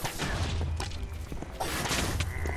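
Explosions in the video game Minecraft Dungeons burst amid combat, loud dense booms and crashes in two heavy clusters over a continuous rumble of game action, with no talking.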